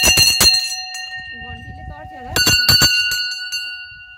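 A bell at a Kirati ancestral shrine rings out sharply, struck in a quick cluster of rings at the start and again later, its clear tone lingering between strikes while a person talks softly underneath.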